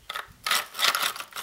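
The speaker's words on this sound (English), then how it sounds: "go ahead and tighten down those two screws." Screws are tightened on a motor mount with a few short, close ratcheting turns and faint mechanical clicks.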